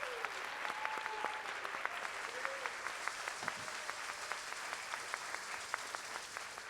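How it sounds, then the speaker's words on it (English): Steady audience applause for Negro Ensemble Company theater alumni at a theater talk, a dense wash of clapping lasting several seconds with no speech over it. "So let's give another round of applause for these NEC alumni."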